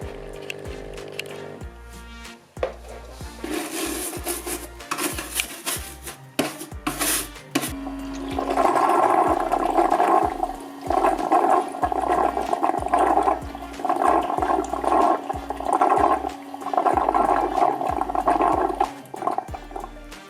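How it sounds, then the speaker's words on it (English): The base station of a Botslab M20 robot mop cleans itself. A few sharp clicks and knocks come first, then a steady whirring and scrubbing with sloshing water that pulses in a rhythm. The sound is close and there is no speech. "The robot will exit the base and the station will start self-cleaning."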